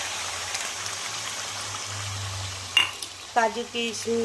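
Ground spice paste with cashew and onion sizzles and crackles in a hot pan, a continuous frying hiss with a low hum beneath, followed by a few clinks and short bursts of sound near the end.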